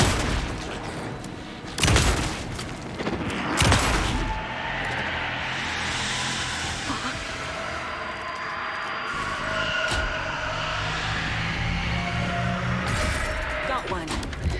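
Gunfire in the video game Alan Wake 2, a handful of sharp shots spaced a second or two apart at moderate level over a steady eerie ambient bed, with someone speaking in between.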